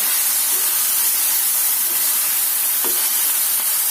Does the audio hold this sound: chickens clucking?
no